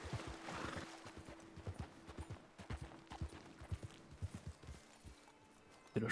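A horse walks along in a role-play video game, its hooves giving a steady, fairly close clip-clop rhythm, with a short whinny-like sound and no one speaking.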